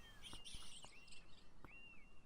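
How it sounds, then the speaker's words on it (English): A bird in the video game Beyond Eyes chirps with a series of bright, thin tweets and short whistled calls, faint and close, set against a quiet background. "There's a bird on the table."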